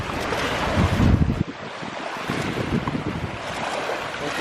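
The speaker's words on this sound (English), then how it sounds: "I'm just waiting for her to get hit by this wave" Ocean surf rolling onto a beach, a loud close wash of water with heavy wind buffeting the microphone, one wave surging strongly then hissing and settling into a continuous roar.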